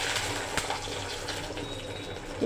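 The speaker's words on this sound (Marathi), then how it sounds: "आता याच्यात टाकायचं आपण पाणी." Water poured into a pan for dhokla batter after the tempering, a steady gushing fill that runs close and fairly loud for the whole stretch with no talk over it.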